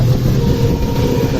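A passenger special train on the Mysuru to Chamarajanagar line rumbles along at about 85 km/h, a steady loud low roar with faint rhythmic rattling of the carriages, heard from close by.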